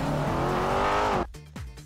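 A car accelerating in the video game GTA, a loud rising engine drone that cuts off abruptly after about a second, followed by a few short engine bursts.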